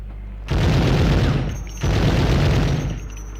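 Two long bursts of rapid gunfire from the Medal of Honor video game, loud and dense, separated by a short gap.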